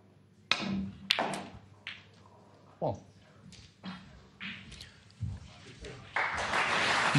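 At the 2024 World Snooker Championship match between Ronnie O'Sullivan and Ryan Day, sharp ball clicks and a thud into the pocket ring out in a quiet arena, with commentary talk between strikes and applause rising at the end.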